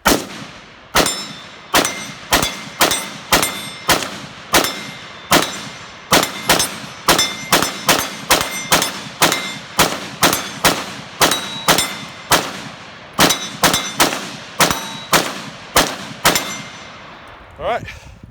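An IWI Tavor X95 rifle in 5.56 NATO fires a full thirty-round magazine as steady, closely spaced single shots, each one loud and sharp with a short ringing tail, before the firing stops near the end.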